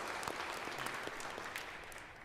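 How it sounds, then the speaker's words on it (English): A church congregation at Sunday Mass claps together in sustained, even applause, a dense wash of many hands filling the space for a couple of seconds. "Let's give them a round of applause."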